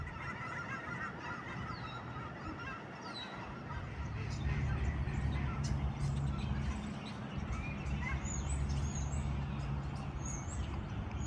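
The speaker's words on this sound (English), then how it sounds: "There's lots of ducks and geese" Geese honk and ducks call in a busy outdoor chorus at a pond, some calls close and others farther off, with a low rumble of background noise throughout.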